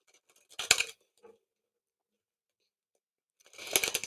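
Two short bursts of tarot cards being riffled and shuffled, crisp and close, separated by a quiet pause.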